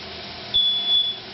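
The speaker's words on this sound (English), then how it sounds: "Oh, the smoke detector's going off." A thin, high-pitched electronic tone sounds for about half a second, pauses briefly, then repeats: a smoke detector chirping in a quiet room while chicken is being grilled.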